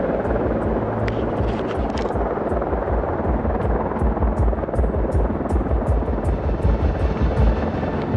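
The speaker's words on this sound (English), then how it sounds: "Another Apache helicopter comes in." An Apache military helicopter drones loudly overhead, its rotor thudding in a steady low rumble with a constant engine hum throughout.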